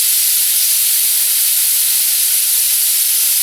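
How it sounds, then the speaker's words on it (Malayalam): A pressure cooker cooking beef curry vents steam in a steady, loud, unbroken hiss that holds evenly throughout, with no voices. "നമ്മുടെ കുക്കറിൽ 6 വിസിൽ വന്നിട്ടുണ്ട്."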